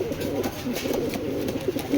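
Racing pigeons coo close by in soft, repeated throaty rolls over a low background murmur.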